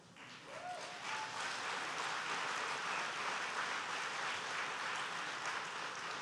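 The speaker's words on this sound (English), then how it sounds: "How amazing is it that I can say that and get a round of applause?" Steady audience applause at a mental health talk, a dense wash of many hands clapping that swells in and holds at an even level, with a faint voice at the start.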